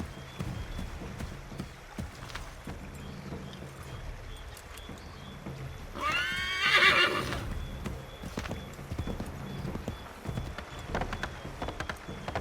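A horse gallops in Assassin's Creed III with a continuous clip-clop of hooves, and a loud whinny cuts in near the middle of the gallop. No voices are heard.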